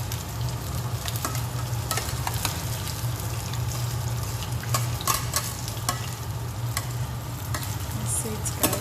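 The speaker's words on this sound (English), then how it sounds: "Stir everything together." A spinach vegetable soup with seasoning cube and salt being stirred in a pot, a continuous bubbling simmer broken by frequent small utensil clicks and scrapes against the pot, close and steady.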